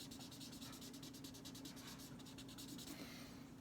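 A colour blender pencil rubs across wet paper in soft, continuous strokes with a rhythmic scratchy texture, faint and close, with no voices.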